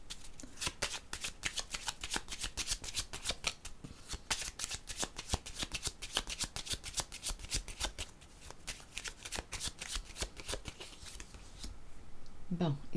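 Purple cards being shuffled in a rapid, steady run of crisp riffling flutters, close and continuous, with a brief pause midway and a faint shuffle at the end.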